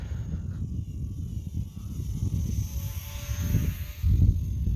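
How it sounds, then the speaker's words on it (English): The small propeller motor of an Eachine T-28 RC model airplane buzzes steadily, rising and falling in pitch as it flies, with a louder surge near the end. "Kind of sounds like a real airplane."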